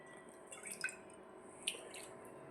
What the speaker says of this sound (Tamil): இப்போ தண்ணி தெளிப்பேன்